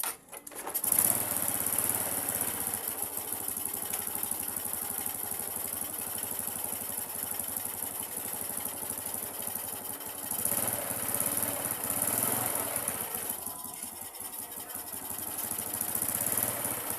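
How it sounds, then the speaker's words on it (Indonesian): A Honda Revo Absolute Fit motorcycle engine starts with a brief burst, then settles into a steady, close, continuous idle that runs alone for the whole stretch. "Oke, kita coba nyalakan motornya."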